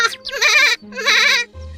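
A cartoon goat bleats twice in quick succession, each call a bright, wavering vibrato cry, close and clear, with no talk.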